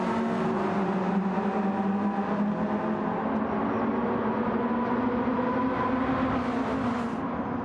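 A BMW race car engine in Gran Turismo 7 at Spa-Francorchamps, a steady high-revving drone held at near-constant pitch throughout, loud and close with no talk over it.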